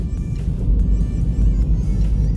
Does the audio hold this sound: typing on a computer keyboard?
no